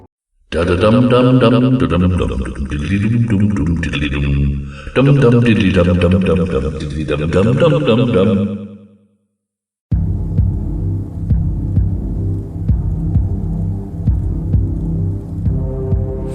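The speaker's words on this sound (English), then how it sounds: "Foxy is also the cause of the noises that can be heard in FNAF 1" Eerie, warbling voice-like noises from the animatronic fox Foxy in the game Five Nights at Freddy's 1 rise and fall for several seconds, then a brief silence gives way to a low, throbbing hum with faint knocks.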